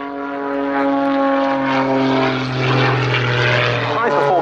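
A propeller-driven fixed-wing aerobatic plane performing at the Yeovilton Air Day airshow drones loudly with a strong buzzing engine tone. The pitch shifts and swells as it manoeuvres, while a commentator talks over it.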